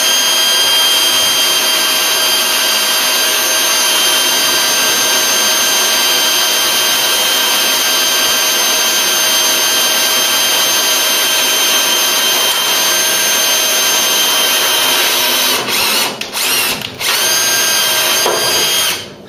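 A power drill whines continuously at high speed drilling a classic car's body panel, loud and close, with a few brief interruptions near the end.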